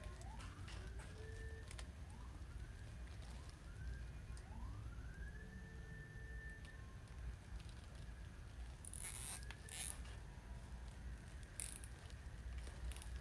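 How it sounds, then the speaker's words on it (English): Emergency vehicle sirens wail faintly somewhere in the neighborhood, repeated rising and falling tones drifting in from a distance under low room noise. "Sounds like we got some sirens going on in the neighborhood."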